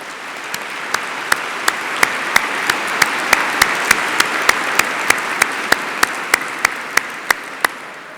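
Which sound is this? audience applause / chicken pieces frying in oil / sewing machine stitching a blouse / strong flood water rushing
audience applause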